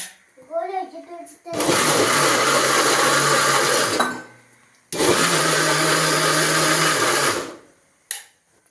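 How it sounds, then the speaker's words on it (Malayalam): A kitchen mixie grinder blending food roars loudly in two sustained bursts of a few seconds each, with a short pause between them; a voice speaks briefly before the first burst. "ഗൈസ് മിക്സിയിൽ അടിക്കാൻ പോവാണ് കേട്ടോ"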